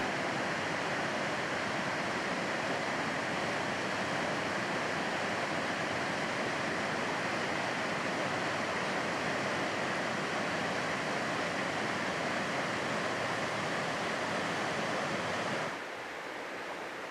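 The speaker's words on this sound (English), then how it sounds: "In here we have a most interesting waterfall." A waterfall in Panthertown Valley, North Carolina, its currents zigzagging in many directions, roars as a steady, dense broadband rush close by, holding constant until it softens slightly near the end.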